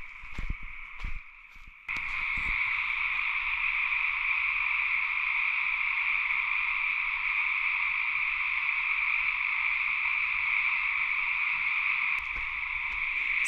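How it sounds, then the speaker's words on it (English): A loud, dense chorus of frogs croaking continuously near a pond, a steady droning wall of calls after a few brief knocks at the start. "I want you to hear how loud the frogs are"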